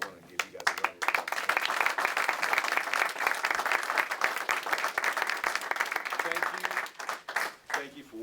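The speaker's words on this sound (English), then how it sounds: "So I want to give you guys a round of applause." Graduation audience at College of Alameda breaks into sustained applause, a dense, steady roar of many hands clapping with a few brief dips, some voices mixed in.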